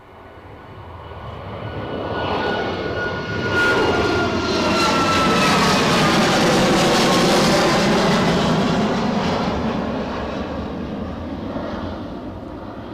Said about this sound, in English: I'm pretty certain it's Ryanair to Barcelona.